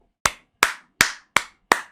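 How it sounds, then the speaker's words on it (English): Five sharp hand claps, close and clean against silence, evenly spaced at a slow steady pace, each with a crisp attack and quick decay. "I clapped."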